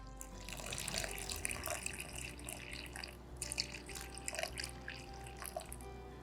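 Water running into a bowl while being measured out for bread dough, a steady faint trickle and splash with small dripping accents, continuous and quiet throughout.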